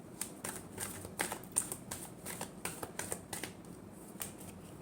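Tarot cards being shuffled by hand: a run of quick, crisp riffling bursts in an uneven rhythm, close and fairly quiet, with no talking.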